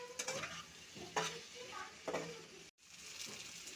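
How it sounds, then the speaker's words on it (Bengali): Taro roots and potatoes stirred and sautéed in a pan for a rui fish curry, with sizzling under repeated scraping strokes of a spoon at close range, then a brief dropout before the sizzle resumes. "এখন আমি কচুরমুখী আর আলুগুলো দিয়ে দেব। এটার সাথে ভালো করে মিশিয়ে একটু কষিয়ে নেব।"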